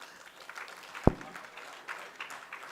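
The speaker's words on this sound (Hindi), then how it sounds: "एक बार जोरदार ताली बजा दो।" Crowd applause at a Hindi comedy poetry gathering patters along at moderate volume, a dense spread of clapping with one sharp bump partway through.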